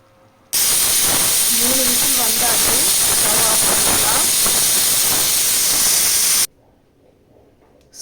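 A loud, continuous hiss of steam venting bursts on suddenly, roars steadily for about six seconds with a fluttering whistle, then cuts off abruptly.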